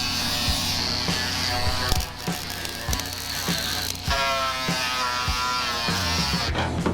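Power tool stripping paint off a demolition derby car before welding, a loud, close, continuous buzzing grind with a regular pulsing rhythm and a few short dips where the tool shifts against the metal.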